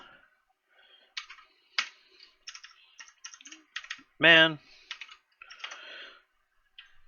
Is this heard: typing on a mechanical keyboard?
yes